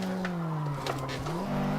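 Car engine in a retro racing video game, a steady buzzy synthesized drone with stacked harmonics that holds and then climbs slightly in pitch as the car accelerates, continuous and fairly loud throughout.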